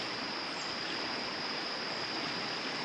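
River water runs steadily over rocks past calm spots in a wooded state park stream, a continuous broadband rush heard alone at moderate level with no breaks.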